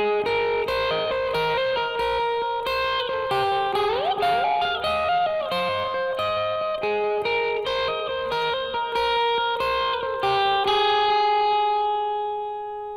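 Clean lead electric guitar tone from a Zoom G5n patch, a melodic single-note line with chiming sustained notes and echoing repeats, ending on a long note that rings and decays.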